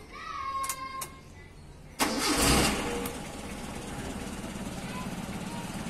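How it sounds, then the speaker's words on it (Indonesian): A Mitsubishi L300 engine cranks briefly and catches, settling into a steady idle after a loud start; someone speaks over the opening moments. "tinggal starter nyala"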